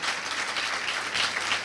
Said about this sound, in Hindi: अरे तालियां नहीं बजाओगे?